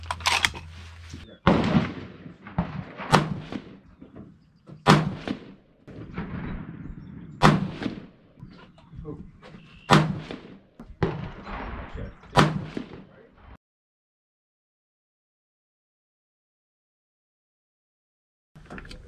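A rifle firing a five-shot group of handloaded rounds with adjusted bullet seating depth: sharp, loud reports in an irregular series over about thirteen seconds, each with a short ringing tail, then a long silence.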